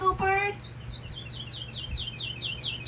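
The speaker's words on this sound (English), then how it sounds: "The bird looked at Percy" A small bird gives a quick run of repeated high chirps, light and evenly spaced, following a brief voiced sound at the start and over a faint low hum.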